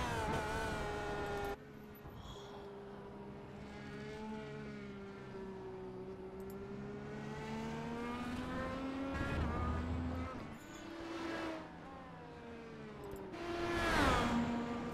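IndyCar race cars lapping Interlagos in a racing video game, with high engine whines rising and falling steadily through gear changes, a car swelling close near the end.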